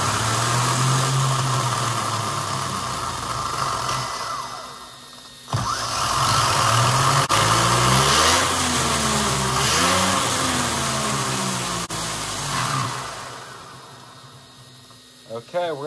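A DeeRC 9207E-type RC car fitted with a 27t pinion and run on a 2S battery gives a loud, steady electric motor whine that repeatedly rises and falls in pitch, with a couple of brief breaks and a sharp click near the end.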